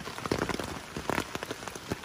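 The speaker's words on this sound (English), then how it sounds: "All this rain came out of nowhere in 5 minutes" Sudden heavy rain in Seminole State Forest, a dense, close patter drumming on a surface with irregular louder splashes, no voices.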